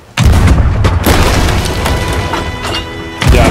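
Ship cannon fire in the pirate game Sea of Thieves: a sudden loud boom bursts in and rolls on with heavy low rumble for about three seconds. A second blast hits near the end, and there is no talk.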